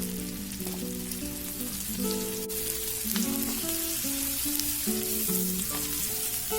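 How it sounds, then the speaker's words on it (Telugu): Onions with coriander powder fry in a pan for onion chutney, giving a steady, crackling sizzle with bubbling pops that runs continuously, close and moderately loud with no voices. "ఒక 5 నిమిషాలు ఫ్రై చేసుకోవాలి"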